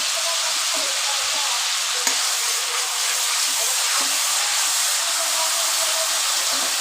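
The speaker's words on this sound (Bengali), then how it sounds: "এই শুকনো লঙ্কা ফোড়ন দিয়ে দিলাম" Dried red chillies and bay leaf sizzle steadily in hot oil, a dense continuous crackle at close range for a Bengali wedding-style chicken dish, with no talk over it.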